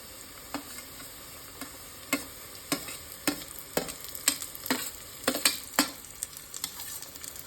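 Finely chopped garlic and ginger fry in oil, a soft sizzle punctuated by a run of sharp spoon scrapes and taps from stirring that grow quicker and louder toward the middle.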